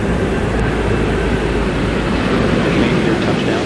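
Space shuttle main landing gear touching down on the runway, a loud continuous roar and rumble of rolling wheels and rushing air with no distinct break.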